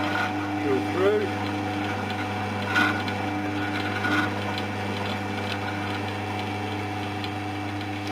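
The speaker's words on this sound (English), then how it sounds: "Drill through." A power drill bores through a wooden wing rib jig, a steady electric motor whine and hum held for several seconds, close and even, with someone talking quietly over it.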